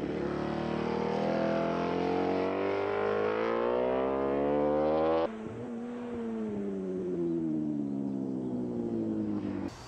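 Exhaust of a Honda RC211V V5 MotoGP racing motorcycle from the early 2000s, a loud, rich harmonic engine note that swells as revs rise, then cuts to a lower steady drone after a sudden shift.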